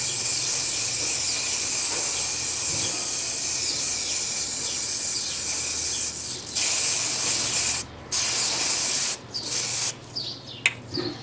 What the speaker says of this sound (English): So again we spray it.